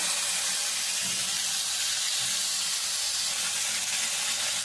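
Tomatoes with a little salt fry in a pan for a tomato chutney, giving a steady, close sizzling hiss that runs evenly throughout with no voices.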